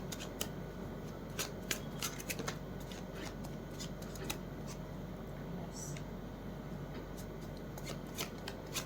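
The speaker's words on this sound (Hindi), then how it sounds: "एक बार मैं कार्ड्स लगा लेती हूँ फटाफट" Tarot cards are shuffled and laid out in quick, soft riffling flicks and light slaps, close and fairly quiet over faint room noise.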